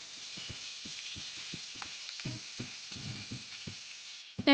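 Tempeh frying in hot oil, a close, continuous sizzle broken by frequent crackling pops scattered throughout.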